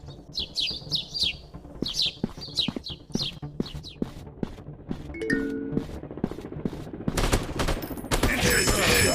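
Gunfire from an FPS shooting video game, with a rapid burst of automatic fire growing loud and dense toward the end, following a stretch of chirping birdsong and scattered clicks.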